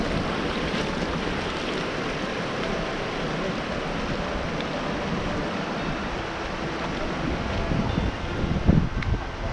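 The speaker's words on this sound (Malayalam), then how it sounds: "ചെറിയൊരു ഒഴുക്കൊക്കെ ഉണ്ട് കേട്ടോ വെള്ളം." A stream flows gently near a waterfall at Palakuzhi Thandilam, a steady broadband rush of water that continues evenly throughout, close and moderately loud, with no voices.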